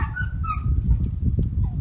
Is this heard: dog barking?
yes